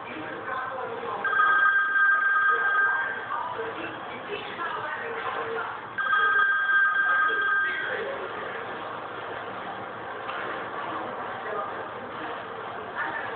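A telephone ringing while a call is being placed, two long electronic rings separated by a pause over a muffled, band-limited line hiss.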